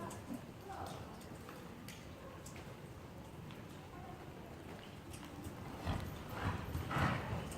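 Horse hooves clip-clopping at a steady rhythm during a riding lesson, moderately close, with a voice speaking over the hoofbeats, and the sound growing louder near the end.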